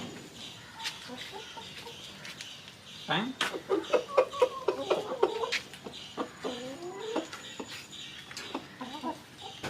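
Chickens cluck repeatedly near a rustic hut kitchen as they are fed, making a busy run of close clucks and squawks with people talking over them.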